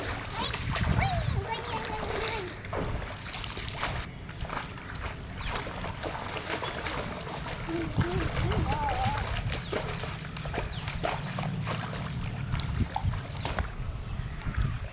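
Rainwater pools on a building rooftop, and splashing and slapping in it keeps up steadily and close, mixed with children's voices talking and playing.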